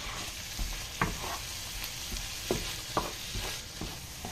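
Seafood paella ingredients, including grated tomato, being stirred in a hot pan, with a steady background sizzle broken by several scraping stirs of the utensil.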